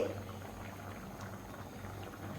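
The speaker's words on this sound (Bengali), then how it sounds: "বেশ ফুটতে শুরু করেছে" A pot of chana dal curry simmering on the stove, giving a soft, steady low bubbling that runs evenly throughout at a quiet level.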